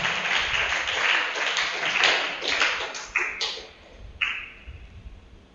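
Church audience clapping at a Children Of God gathering, a dense steady patter of many hands that thins out toward the end, with a few sharper isolated claps.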